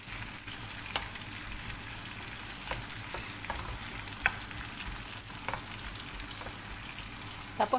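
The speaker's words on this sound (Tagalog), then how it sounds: "I-frito muna natin hanggang mag-brown" Onions fry in a pan, browning with a steady, close sizzle and a few soft clicks of stirring throughout, with no talking.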